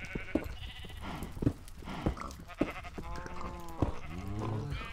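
In the game Minecraft, sheep bleat several times over a quiet farm scene, short wavering calls at a moderate distance, with other soft game sounds in between and no talk.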